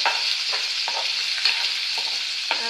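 Crushed garlic and cumin sizzle loudly in hot oil for a tempering. The steady bright hiss is broken by a regular series of soft stirring scrapes about every half second, with no voices.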